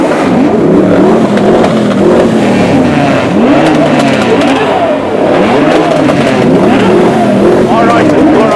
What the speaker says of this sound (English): Start your engines, gents. We're going to hear you all together to begin with.